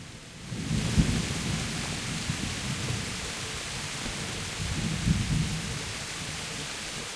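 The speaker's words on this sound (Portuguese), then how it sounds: "A chuva tá tão forte," Heavy rain in the video game Kingdom Come: Deliverance pours in a steady, dense hiss with low rumbling swells, like distant thunder, continuous throughout with no speech.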